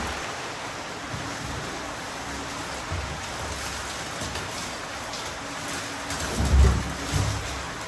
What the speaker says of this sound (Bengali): বাহিরে বৃষ্টি পড়ছে